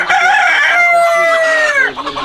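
A single Fayoumi chicken on a poultry farm gives a loud, drawn-out call close by, with a steady tone that trails off into softer clucks.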